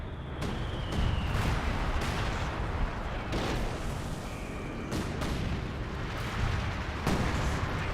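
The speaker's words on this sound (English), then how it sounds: "It's a new mortar barrage there." Repeated mortar barrage explosions in Company of Heroes 2, a series of loud booming impacts spaced about a second apart over continuous battlefield din.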